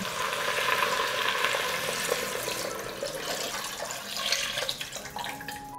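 Water poured into a pot where chicken fillet and softened vegetables are cooking, a steady hissing, rushing wash with sizzling texture underneath, continuous and moderately close without speech.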